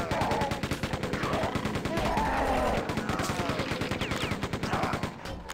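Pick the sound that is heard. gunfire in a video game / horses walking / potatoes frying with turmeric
gunfire in a video game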